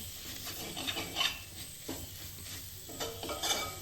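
Chicken pieces go into a pan of frying masala, with a soft sizzle under repeated scraping and stirring strokes of a utensil against the pan, fairly quiet and close, with no one speaking.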